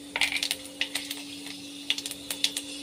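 Panch phoron five-spice seeds dropped into hot oil in a wok, giving scattered sharp crackles and pops in small clusters over a faint steady hum.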